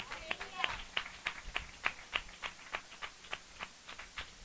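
A Hindi church audience claps during a sermon, a series of sharp, evenly spaced claps that stay fairly faint, with a few soft voices underneath.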